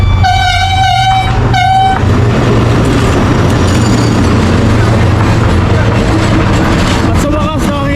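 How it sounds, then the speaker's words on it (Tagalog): A passing train sounds two loud, close horn blasts, then rumbles and clatters steadily by, with brief voices near the end. "Ayan po, may train."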